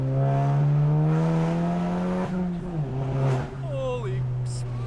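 A loud VW Mk7 GTI drones at steady high revs on a twisty road, its tone dipping and shifting as it changes pace, with people talking excitedly over it.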